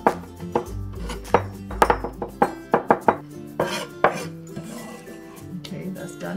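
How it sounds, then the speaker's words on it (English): A knife chops ginger and garlic together on a cutting board, a quick irregular run of sharp close knocks and taps, alone without talk. "Next, let's mince the ginger and garlic."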